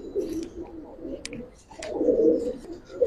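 Silver Giribaz and coloured pigeons cooing close by, soft throaty rolling coos in two bursts with faint chirps and clicks between.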